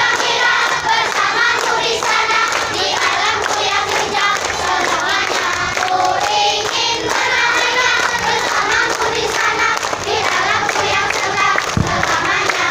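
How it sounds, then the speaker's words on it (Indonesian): Schoolchildren at an outdoor class day at an Indonesian elementary school clap and shout together, a dense, lively mix of many hands and young voices filling the whole stretch. "Tepuk tangan yang meriah untuk semuanya."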